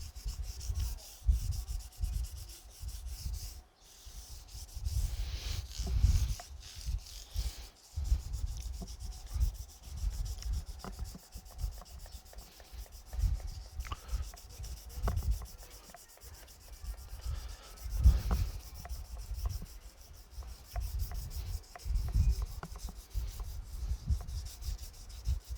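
Guitar fret wires are sanded with 800 grit sandpaper in continuous, close rhythmic rubbing strokes, a soft scratchy back-and-forth with low thumps, with no talking.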